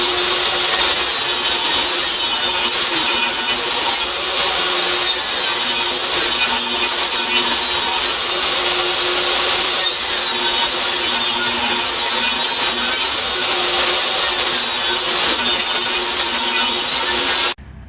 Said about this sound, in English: I'm going to be cutting these down into, say, 1/2 inch strips